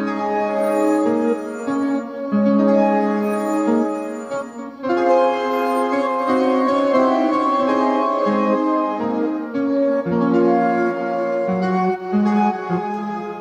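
A lo-fi piano track played through the Tape Piano 2 plugin on its default tape setting, with warm, slightly mangled chords and melody notes continuing throughout, loud and alone.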